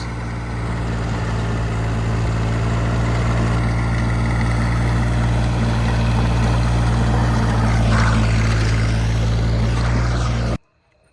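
A Deutz tractor engine runs steadily at close range, a loud continuous low rumble that holds for about ten seconds before stopping abruptly.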